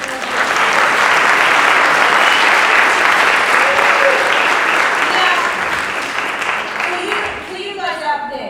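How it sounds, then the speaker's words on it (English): An audience at a panel discussion applauds the panelists, a steady, dense wash of many hands clapping at full strength that gradually thins and tapers off at the end. "Give them a applause, please."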